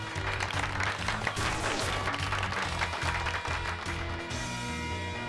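Sustained clapping applause for Pikachu in Pokémon Violet over upbeat background music, loud and continuous from start to finish.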